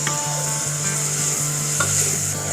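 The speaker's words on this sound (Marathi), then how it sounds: "कांदा आपल्या बऱ्यापैकी शिजला आहे, चांगला परतला गेला आहे." Chopped onions sautéing in a pan, with a continuous close, loud frying sizzle and occasional soft scrapes of a spatula, no voices.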